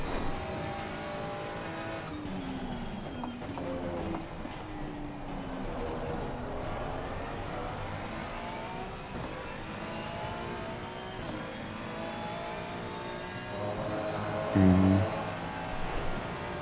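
A Mustang race car in a sim racing game at Kyalami, its engine whining through rising and falling gear sweeps at steady moderate level, with a brief louder burst near the end.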